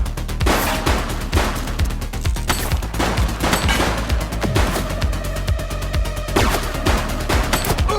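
Gunshots in The Precinct police video game: a dense, continuous run of sharp, loud shots fired in rapid succession against busy background game sound.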